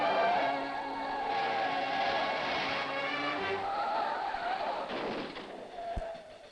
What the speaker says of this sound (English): Dwayne Carter, losing a wheel, spins helplessly down the track